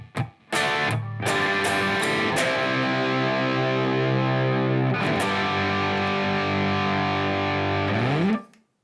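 The pre-chorus of a song is played slowly on a distorted electric guitar as sustained chords. Short choppy strums come first, then long ringing chords with a slight bend at the end, with no voice.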